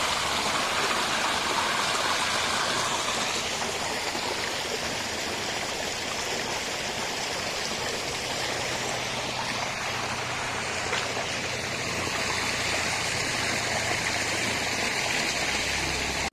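Rainwater stream running beside a road, a steady broadband rush of flowing water that stays loud and continuous throughout, with a low hum entering partway through.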